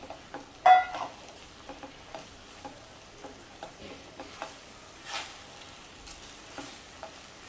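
Okra coated in besan is stir-fried dry in an open pan, a faint steady sizzle broken by light, regular scrapes and taps of a spatula, with one sharper clink near the start.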